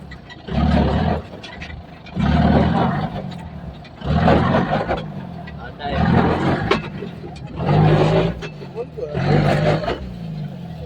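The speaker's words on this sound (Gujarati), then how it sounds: "ત્રાહી જાય છે ગાડી, ત્રાહી જાય છે." A stuck car's engine revs in repeated surges roughly every two seconds as it slips in rain during a storm, loud and close, with people shouting over it.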